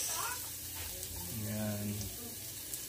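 Ginger and onion sizzle in a hot frying pan, a steady crackling hiss that continues throughout while a person talks over it.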